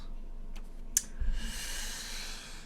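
A computer mouse clicks while video is being edited in Adobe Premiere, two crisp close clicks about half a second apart, followed by a soft thump and a rising hiss of room or fan noise.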